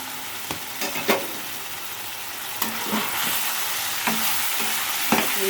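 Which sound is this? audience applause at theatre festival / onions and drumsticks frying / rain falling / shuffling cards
onions and drumsticks frying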